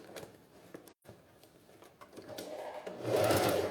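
A sewing machine stitching fabric for a beach pouch with a clear vinyl window, running in short bursts with a brief pause, then a louder steady whirring toward the end, up close.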